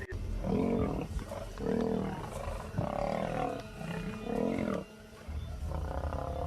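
Deep, rough roars and snarls from several lions fighting, coming in repeated bursts that overlap and surge, loud and close with short gaps between.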